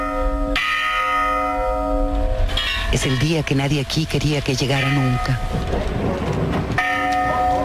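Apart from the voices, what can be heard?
church bells tolling in mourning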